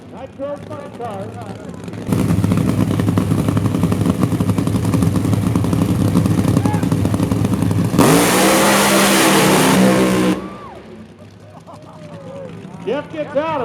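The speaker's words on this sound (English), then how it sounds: "Nitro Funny Cars." Nitro funny car drag racing at full throttle: a loud, roaring engine blast that holds steady for about eight seconds, then cuts off, with people talking before and after the run.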